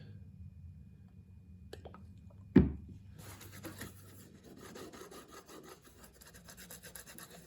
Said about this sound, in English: And I just rub it around good and get it in all the little crevices